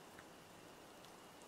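Night rain in the video game Mineko's Night Market, a steady, quiet hiss of falling water with no breaks and only a few faint droplet ticks.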